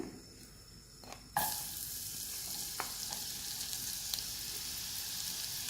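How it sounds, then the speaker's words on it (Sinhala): Garlic dropped into hot oil, a sudden loud sizzle bursting in after a quiet second and then holding as a steady close crackling fry with a few small pops. "දැන් මේ වගේ තෙල් ටික රත් වෙනකොට මම එකතු කරගන්නවා සුදු ලුණු"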